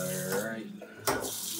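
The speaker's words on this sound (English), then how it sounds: "We're going to get some warm water, get it about body temperature" A kitchen tap runs warm water into a sink, a steady close splashing stream with a brief louder gush partway through, and faint voice-like tones in the background.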